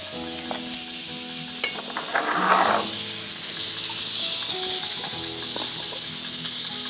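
Butter and ginger garlic paste go into a hot pan for a creamy chicken curry, giving a brief hiss and sizzle with a few light metallic clinks, then a soft, steady frying crackle in the background.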